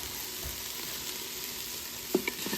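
Onions browning in an Instant Pot give a steady low sizzle and fry, close and moderately loud, with a couple of soft stirring knocks near the end and no voices.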